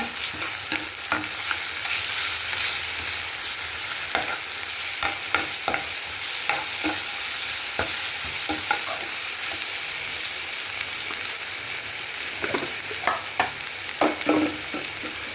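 Ginger and garlic paste fries in hot oil with a continuous close sizzle, punctuated by repeated sharp scrapes and clinks of a spoon stirring the pan at an irregular pace, with no voices.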